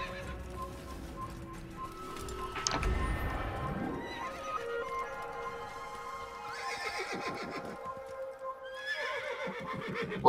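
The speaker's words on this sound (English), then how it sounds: "Horse." A horse in Assassin's Creed whinnies loudly several times, rising and falling neighs with clip-clop hooves between them, clear and close with no talking.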